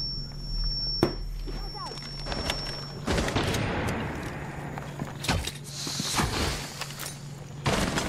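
Gunfire in the shooting video game Rainbow, sharp shots and bursts popping among other game sounds, heard beneath players talking over voice chat.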